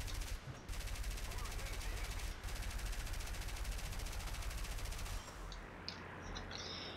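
Sustained rapid machine-gun fire from aircraft guns in a World War II flight combat game with a Hudson Mk 5 bomber, loud continuous bursts that stop briefly and then end, leaving quieter engine noise.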